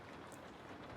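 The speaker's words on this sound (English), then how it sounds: "So I do have rain on the window." Recorded rain patters steadily against a window, a soft, even hiss of drops with no breaks, quiet and continuous with no voices.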